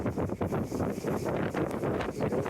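Steady, loud wind buffets a boat sailing along the Catalan coast between Garraf and Arenys de Mar, a continuous roaring rush with no voices.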